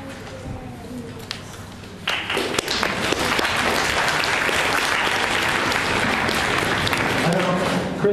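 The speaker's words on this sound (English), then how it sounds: "holding the applause until the end of the session" Audience applause at a debate breaks out after a stretch of speech, swelling into steady, dense clapping that fills the room and holds strong to the end.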